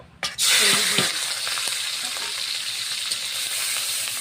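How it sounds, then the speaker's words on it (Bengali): Small prawns frying with salt and turmeric in hot oil, a loud steady sizzle that bursts in after a brief stir and holds close and even throughout, with light utensil scrapes. "একটু লবণ আর হলুদ দিয়ে চিংড়িগুলো ভেজে নেব।"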